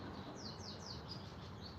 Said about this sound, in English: I love the bird. The sound of all the birds is just delightful.